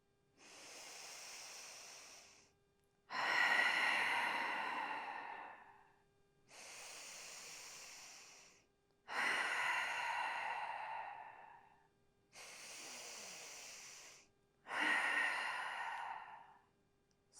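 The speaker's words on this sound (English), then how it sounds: "taking 3 final grounding breaths together" Slow, deep breaths during a gentle yoga flow, three full cycles of long hissing inhales and exhales, each lasting a couple of seconds, close and steady with short pauses between.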